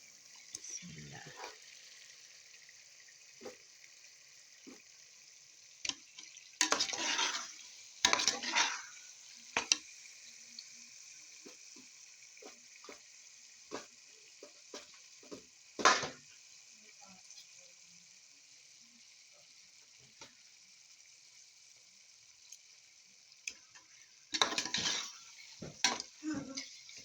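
Chicken pieces are added one by one to a pot of sliced potatoes for a Pakistani chicken potato biryani, with a steady faint sizzle broken by intermittent clanks, splashes and louder bursts of frying.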